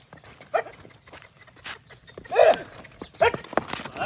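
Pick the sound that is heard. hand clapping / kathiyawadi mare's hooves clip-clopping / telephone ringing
kathiyawadi mare's hooves clip-clopping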